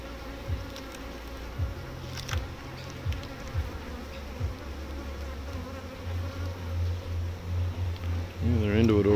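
Dense swarm of honey bees buzzing around a hive while a frame is set in, a steady close drone throughout that rises and thickens toward the end, with scattered individual bees passing near.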